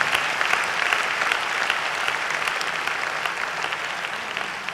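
Loud, steady applause from a large audience at a Hindi poetry gathering (kavi sammelan) in Kolkata, a dense wash of clapping filling the whole stretch without pause.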